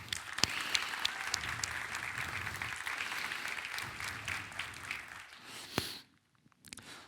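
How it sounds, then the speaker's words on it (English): An audience at a PyCon Sweden 2024 conference opening session applauds the sponsors, a dense, steady clapping of a sizeable crowd that fades out abruptly near the end, followed by a couple of isolated claps. "maybe round of applause for the sponsors."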